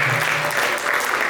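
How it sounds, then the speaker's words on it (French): An audience at a book signing conference in Yaoundé breaks into steady, dense applause, loud and close, with many hands clapping continuously and no voices over it. "également sous vos acclamations"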